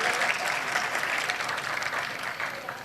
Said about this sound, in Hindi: तालियां होनी चाहिए जरा अच्छी सी।